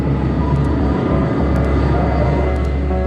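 Transat Flight 236, a heavy airliner, before takeoff: a loud, steady low rumble of jet engines running continuously, with faint intermittent high beeps above it.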